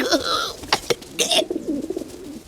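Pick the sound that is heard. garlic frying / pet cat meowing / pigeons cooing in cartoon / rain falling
pigeons cooing in cartoon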